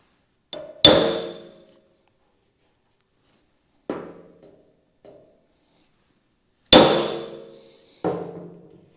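Sparse hammer strikes on a 1952 Chevy Styleline car fender during repair: sharp ringing clangs with softer taps between, spaced irregularly, close and loud against silence.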